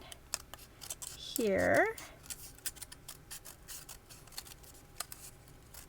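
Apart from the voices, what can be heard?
scissors cutting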